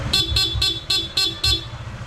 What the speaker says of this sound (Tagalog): dual horn setup na may rapid mode and combo lights